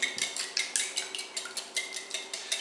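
Quiche filling of eggs and nutmeg being whisked in a bowl, with a steady run of light metallic clinks and taps from the whisk striking the bowl at an even, quick rhythm, close and fairly quiet.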